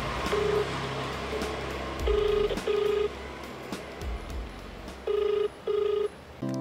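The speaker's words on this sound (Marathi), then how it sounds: "आमी फोनूय मारलो पुणून तांणी फोन उबारूना" A phone call that goes unanswered, with short ringback tone bursts repeating in pairs against a low background hum and clatter. No one picks up and no voice is heard.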